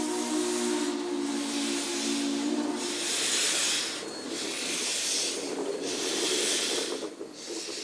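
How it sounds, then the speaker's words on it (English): Steam locomotive departing Portland's Union Station, heard as rhythmic loud bursts of hissing steam exhaust, roughly one per second, over a low steady rumble and a brief tonal whistle-like hum at the start. "For a younger generation who had never seen a steam engine pull out of the station"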